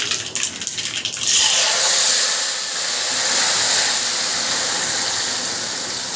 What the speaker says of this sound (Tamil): இந்த நேரத்தில் வந்து நம்ம வெட்டி வச்ச தக்காளி எல்லாம் போட்டுடலாம் உள்ளார